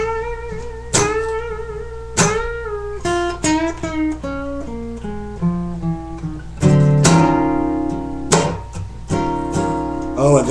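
Electric guitar playing a blues lick from a lesson piece, with string bends, a half-step release and slides between notes, phrased in short bursts and chord stabs, played alone up close.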